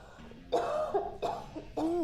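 A raspy, phlegmy cough from the ailing Mother Matron in the video game For Mother Matron, several harsh wet bursts over about two seconds, fairly close and echoing down an indoor hallway, with no talking.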